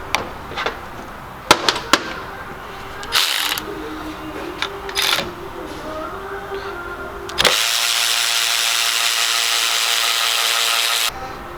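A Snap-on 1/4-inch extended reach ratchet loosening a bolt: a few sharp clicks and knocks, then a long steady whirring buzz of the ratchet spinning, close and loud, ending abruptly.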